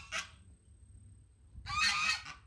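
Two loud, harsh honking calls from a peacock at a zoo in Quiché, Guatemala, a short one at the start and a longer, stronger one after a pause, with no talking.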